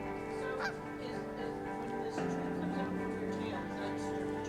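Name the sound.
bird honking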